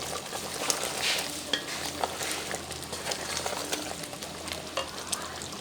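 Masala with coarse green chili paste and crushed coriander is stir-fried for mutton shorba, a steady low sizzle with scraping spoon strokes and occasional clinks against the pot, close and moderately quiet.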